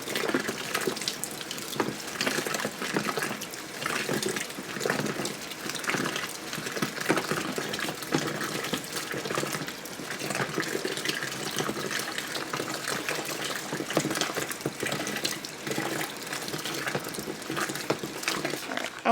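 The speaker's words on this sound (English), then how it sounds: "you'll want to pour warm but not hot water into it from the faucet" Warm tap water pours steadily from a faucet while laundry soap is being made, a continuous broadband gush filling a container at close range with no talking.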